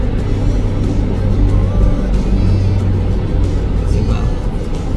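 Several cars in an eleven-vehicle convoy roll along together, a steady loud road and engine rumble filling the whole span, with faint voices underneath.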